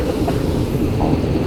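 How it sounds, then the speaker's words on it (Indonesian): A train rolls over the Cirahong railway bridge in Tasikmalaya, a steady close rumble filling the short stretch with no voices. "Bentar ya, nunggu kereta lewat ya."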